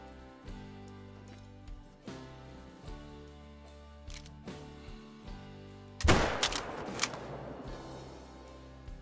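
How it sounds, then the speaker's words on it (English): Rifle shot fired at a fox while hunting in the game Call of the Wild: one sharp, loud gunshot crack with a trailing rumble, coming after a stretch of quieter ambient game sound. "Let's go for a shot on him."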